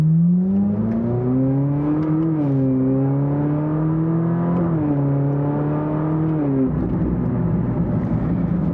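A Ferrari 458 Spider's exhaust drones loudly and steadily while driving, its engine note rising and falling through gear changes before breaking into a rougher roar near the end.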